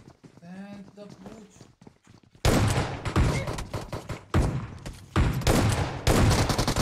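A voice talks briefly, then loud gunfire from the mobile battle-royale game PUBG Mobile breaks out in repeated rapid bursts, close and dominant, with short pauses between volleys.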